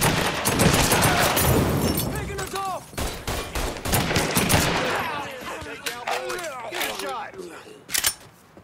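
Gunfire in Mafia III: rapid bursts and single shots crack in close succession, dense at first and then scattered, with voices talking over the shooting.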